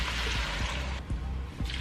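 Water pouring into a cooking pot with squash, a steady splashing trickle close by that runs through a short stretch.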